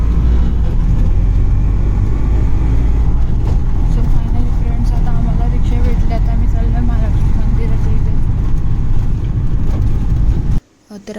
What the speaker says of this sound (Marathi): सो फायनली फ्रेंड्स आम्हाला रिक्षा भेटली